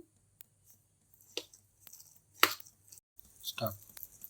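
Vada batter mixed with chili powder by hand makes faint, sparse wet squelches and soft slaps, a few brief bursts separated by near silence, close up.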